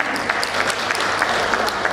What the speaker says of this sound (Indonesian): Amin ya, tepuk tangan ya, siap.